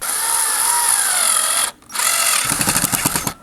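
A power drill drives screws through holes in wooden planks, its motor whining loud and close, cutting out briefly, then revving again with a rapid pulsing chatter as the screw bites into the wood.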